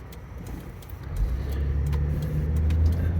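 The engine of a 1997 Lexus LX450 (FZJ80) SUV accelerates from inside the cabin, a low rumble that swells in loudness and holds a steady drone as it pulls from first into second gear.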